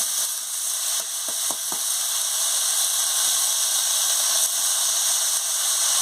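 Pumpkin greens and stalks hit potatoes already frying in oil, a loud steady sizzle filling the whole stretch with a few brief scraping clicks near the start.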